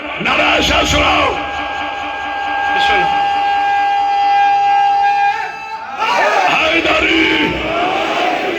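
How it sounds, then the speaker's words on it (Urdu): A large crowd at a 21 Ramzan religious gathering at Jamia tul Muntazir, Model Town, Lahore, roars a chanted slogan in loud bursts, with sustained voices ringing between them and a fresh surge of shouting near the end. "نعرہ تمہارے نعرے ٹھنڈے پڑ رہے، نعرہ ایسا سناؤ."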